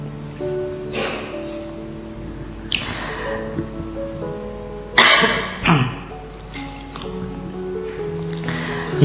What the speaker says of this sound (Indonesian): Batuk. Ayo lomba batuk.